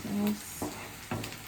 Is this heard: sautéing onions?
yes